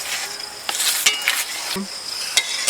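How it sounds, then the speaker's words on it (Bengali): Sugar syrup bubbling in a pan on a village stove while a pickle is being made, with soft scraping stirs and faint clinks of the utensil against the pan. No one speaks. "চিনি রস আমার ফুটছে"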